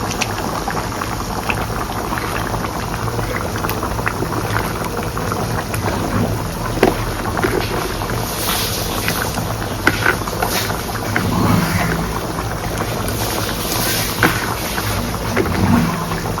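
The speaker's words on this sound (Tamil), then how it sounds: "ஸோ இப்போ பார்த்தீங்க அப்படின்னா குழம்பு வந்து நல்லா கொதிச்சுட்ருக்கு." A pot of dried fish kuzhambu boils hard, giving a loud, continuous bubbling and rumbling close by. Small pops rise through the steady churn, with no voices.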